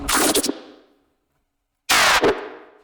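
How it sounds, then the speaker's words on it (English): Two short, harsh bursts of crunchy digital noise with stuttering edges, separated by a brief silence, each cutting off quickly: a glitch fill in an electronic music track. "And here's the glitch fill."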